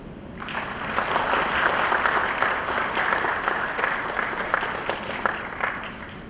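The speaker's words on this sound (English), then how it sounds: "Please give Gordon a huge round of applause, everybody." An audience at a corporate talk in Pune gives a speaker named Gordon a steady round of applause, dense clapping rising quickly and holding loud and full for several seconds.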